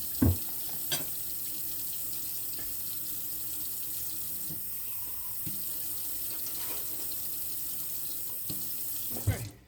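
Water runs from a kitchen tap into a measuring cup, a steady soft rushing stream with a few brief clinks and knocks at the start and end.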